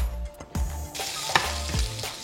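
Bacon fries in a pan, a close, continuous crackling sizzle with scattered sharp pops and spits and no talking.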